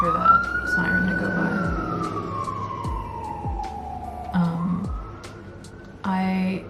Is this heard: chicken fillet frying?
no